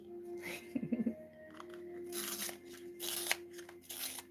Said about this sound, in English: Pencil sharpening noises.